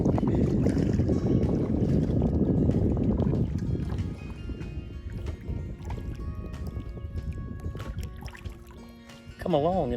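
A boat moves across a lake near Tuscaloosa, Alabama, making a wake, with loud rushing water and wind buffeting the microphone that ease into softer splashing and lapping, while a voice is heard briefly at the end.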